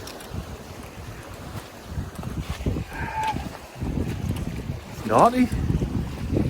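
Strong wind buffets a kayak on a Scottish Highlands loch, with broadband gusting roar and water slapping against the hull, steady and close to the microphone; a voice speaks briefly and shouts over the noise.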